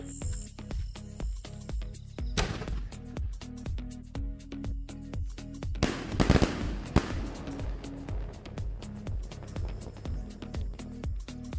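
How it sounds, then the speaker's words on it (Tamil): A Mothers brand 7-step sky shot firecracker set off for Diwali fires a rapid, evenly spaced string of loud pops, swelling into a denser burst midway before the regular popping resumes. "ஃபர்ஸ்ட் வெடிக்க போகிறது மதர்ஸ் பிராண்டு 7 ஸ்டெப் கைசாட்"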